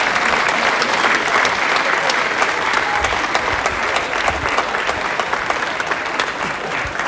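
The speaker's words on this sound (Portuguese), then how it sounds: "Senhoras e senhores, mais um aplauso, por favor, para o Grupo Folclórico de Verde." Loud, dense applause from a festival crowd for a folk dance group performing on an outdoor stage at a folklore festival in Ponta Delgada, Azores, sustained evenly throughout with faint crowd murmur beneath.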